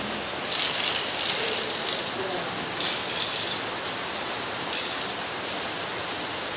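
Steady hiss of rain falls continuously, with a few slightly louder gusts of spatter, no voices.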